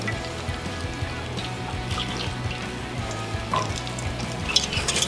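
Hot beef tallow poured over spices for a Nashville hot chicken sauce crackles in a steady, close sizzle, with light trickling and stirring scrapes running through the whole stretch and no voices.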